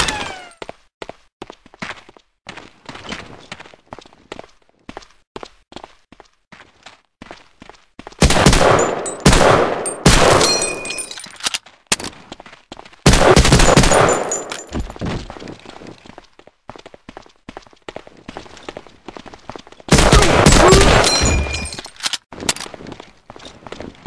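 Gunfire in the World War II shooter Medal of Honor: Allied Assault, heard as three loud bursts of shots separated by stretches of quieter rapid clicking and tapping, with no talking.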